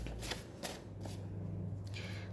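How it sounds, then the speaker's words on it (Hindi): Tarot cards being shuffled and drawn by hand during a reading, with several short papery riffling bursts over a steady low hum, fairly close and with no talking. "तो चलिए कुछ कार्ड्स मैं निकाल लेती हूँ अपने हाथों से"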